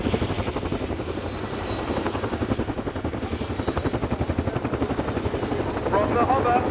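An RAF Chinook HC.6 hovers at the Cosford Airshow, its twin rotors producing a loud, rhythmic blade thump and heavy drone throughout, with a commentator speaking over it.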